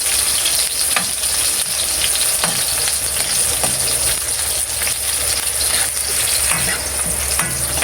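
Onion fries loudly in a pan, a strong, even sizzle with occasional scraping stirs breaking through it.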